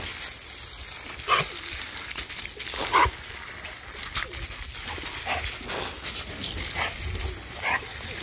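Puppies and an adult dog at a kennel compound give soft whimpers and a few short barks scattered through the clip, moderately close, over a steady background hum.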